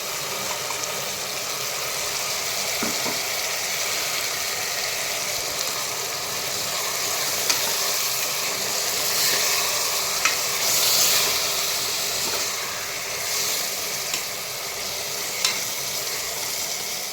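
Spices and tomato fry in a pan for vegetable pulao. A broad, even hiss of sizzling runs throughout, with a few faint taps and scrapes of stirring scattered through it, and no talk.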